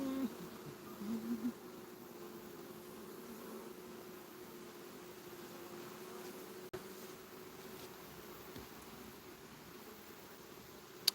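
Honeybees hum in a faint, steady drone around beehives during a honey flow, with a few brief knocks and rustles.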